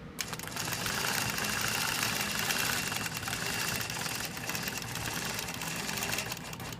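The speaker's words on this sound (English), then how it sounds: "we're going to stitch down our basting stitches, needle down" A sewing machine stitches basting seams on quilt pieces of a Baptist Fan pattern, running fast and steady with a continuous mechanical whir and needle clatter, close up with no talk.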